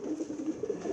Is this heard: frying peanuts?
no